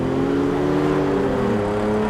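A Mercedes S-Class Brabus with a 7.3-litre V12 accelerates with a smooth, continuous engine drone whose pitch climbs gradually, loud and close, without any voices.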